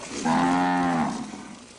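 A cow on a dairy farm with about twenty milking cows lets out a single clear, close moo lasting under a second, fading into quiet background.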